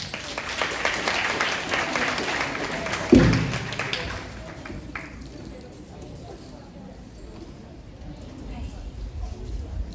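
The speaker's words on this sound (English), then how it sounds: "another round of applause" Clapping from an audience at the Samarpan 2025 event fills the first few seconds, then thins and fades, with a thump partway through and faint room murmur afterward.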